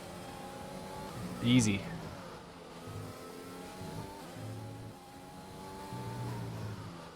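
A Ferrari-powered F1 backmarker car in F1 2020 on a rich fuel mix sweeps past with a brief loud engine surge, then a steady race-engine drone continues under a commentator's talk.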